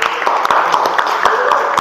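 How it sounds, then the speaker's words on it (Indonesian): A classroom of students claps together on cue at the end of a lesson, a dense run of hand claps with sharp individual strikes spread evenly through the short burst, fairly loud and close. "Oke, terima kasih, tepuk tangan."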